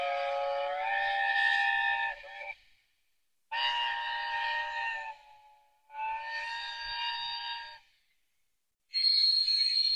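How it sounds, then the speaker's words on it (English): A sound-equipped TT120-scale model A4 Pacific steam locomotive gives four separate chime-like whistle blasts, each about one to two seconds long, with short silent gaps between them. "we'll do some whistles."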